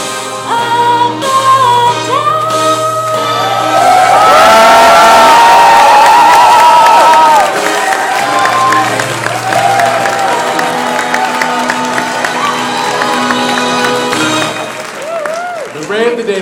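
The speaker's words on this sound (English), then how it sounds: "Another round of applause for Ms. Catherine Trajan, if we could." A crowd at a climate change talks award ceremony applauds and cheers loudly, with whoops and shouts rising over the clapping and a swell of excitement in the middle, while music plays underneath.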